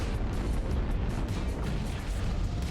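Massed mech weapons firing together in the MechWarrior game, a dense, loud rumbling barrage of booms and bursts rolling continuously without pause.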